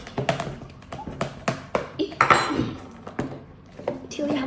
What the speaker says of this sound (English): Then get a spoon and mix.